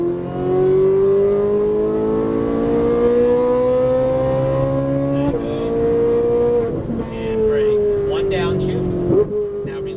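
A Ferrari 458 Italia engine revs hard under throttle, its tone rising steadily. A gear shift cuts in and the climb starts again, with a voice speaking over the engine.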